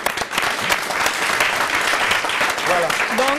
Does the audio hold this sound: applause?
yes